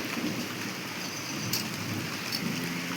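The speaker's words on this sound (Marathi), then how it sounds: "वाव किती छान आलाय पाऊस" Heavy monsoon rain pouring down in a village, a dense, loud, continuous hiss of drops hitting surfaces, with faint distant rumbles and no talking.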